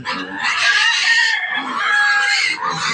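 Loud, busy squealing and grunting from pigs, including a boar, dense and continuous with several animals overlapping, close by and with no talking.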